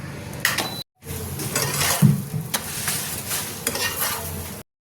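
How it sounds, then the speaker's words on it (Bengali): Fenugreek paratha sizzles steadily in mustard oil on a hot pan while being pressed and stirred, with intermittent scraping and spatula taps, close and fairly loud, broken by a brief cut of silence. "এখানে আমি সরষের তেল দিয়ে সেঁকছি"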